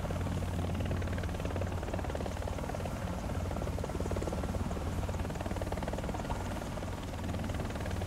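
Helicopter in the War Thunder video game, a continuous loud rotor chop and engine buzz that stays close and steady throughout.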